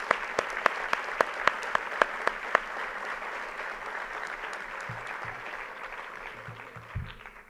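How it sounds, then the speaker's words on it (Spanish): An audience at a tribute ceremony at a Mexican polytechnic institute breaks into applause, a dense wash of clapping that starts with several loud, distinct near claps and then slowly fades. "Un aplauso, por favor, para ustedes,"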